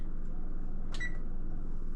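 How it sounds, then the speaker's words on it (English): An oven being switched on and set: a single short electronic control-panel beep from close by, over a steady low hum of background noise. "let's start our oven."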